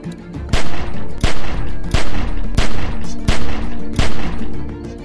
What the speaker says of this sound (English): Just shoot at the window and keep that fucker's head down till I get where I'm going.